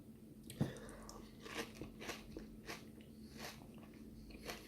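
Close, quiet crunching of cornflakes in Alpro cashew milk, with a sharp first bite followed by a steady rhythm of wet chewing crunches, no talking.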